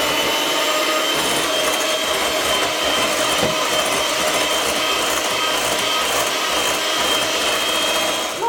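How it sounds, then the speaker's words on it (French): An electric beater whirs steadily through walnut cake batter being mixed with beaten egg whites, a continuous loud buzzing drone with no pauses and no voice. "Maintenant, mélangez avec le batteur."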